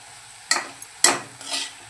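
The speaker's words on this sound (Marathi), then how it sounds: "तर फिरवून घेऊया छान" A spoon stirring Malvani-style fenugreek leaf bhaji in a pan, giving two or three brief scraping strokes over a low, steady sizzle, close by with no voices.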